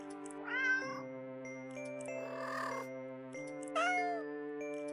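A cat in the game Do Not Take This Cat Home gives several short meows, close and clear, over a soft sustained musical backdrop with faint chimes.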